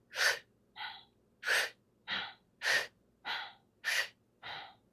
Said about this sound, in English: You're going to breathe in through the puckered mouth and out through the nose. Both the inhale and the exhale should be fairly sharp.